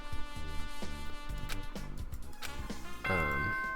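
A doorbell-style chime melody sounds in the video game Danganronpa 2, a sequence of bright ringing tones in a stepped pattern, ending on a louder, sustained final chime, with no speech.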